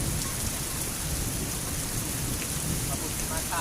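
Steady rain pours down during an outdoor car wash, a dense continuous hiss of drops with faint low rumbles like distant thunder, constant and fairly loud throughout.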